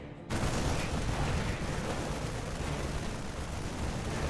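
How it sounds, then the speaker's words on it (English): A Thor unit shooting SCVs in StarCraft II, a sudden loud onset of heavy, sustained rumbling gunfire that continues steadily to the end. "I love watching Thor shoot SCVs."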